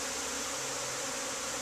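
Steady, dense droning of a honeybee swarm around a backyard hive, close and continuous for a short moment.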